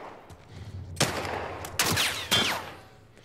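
Gunfire in The Last of Us Part 1 video game: three sharp shots spaced about a second apart, each with a ringing echo tail, fairly faint overall.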